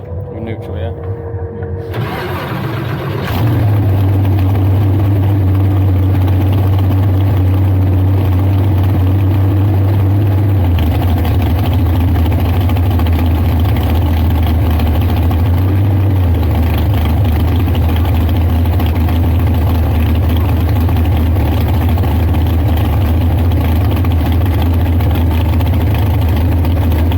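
A Super Comp drag race car engine cranks, fires up loudly and settles into a heavy, steady low idle that runs on for over twenty seconds, with people speaking underneath.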